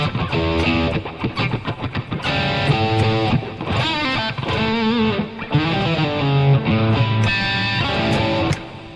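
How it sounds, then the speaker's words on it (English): Distorted electric guitar riffing loudly and continuously with dense, gritty chords and sustained notes, no voices over it. "I gotta take a little bit of the distortion off it."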